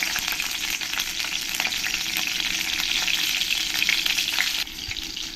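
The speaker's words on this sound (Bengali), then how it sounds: "লঙ্কাগুলো ভালো করে আমার ফ্রাই করা হয়ে গেছে" Steady, loud sizzling and crackling of green chillies frying in hot oil, continuous throughout with a slight drop near the end.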